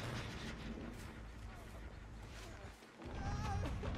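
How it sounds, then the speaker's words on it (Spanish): Booming explosion in a video game, a dense rumbling blast that briefly cuts out and then surges back loud, with someone talking excitedly over the gameplay noise. "Explosión."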